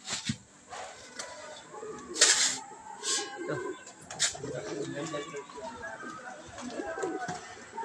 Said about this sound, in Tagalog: Ang kalapati.